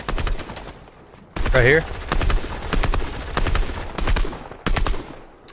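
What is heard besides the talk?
assault rifle gunfire in a Fortnite video game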